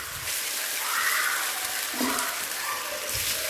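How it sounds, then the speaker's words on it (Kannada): Taro root pieces dropped one by one into hot oil in a pan, a dense continuous frying sizzle with faint splashes as each piece goes in, close and steady, no speech. "ಒಂದು ಪಾನಲ್ಲಿ ಎಣ್ಣೆ ಹಾಕಿಟ್ಟಿದ್ದೀನಿ ಇದು ಒಂದೊಂದೇ ಕೆಸುವಿನ ಪೀಸ್ ಇದೆ ನೋಡಿ ಅದನ್ನು ಹಾಕಿ ಬಿಡ್ತಾ ಇದ್ದೀನಿ"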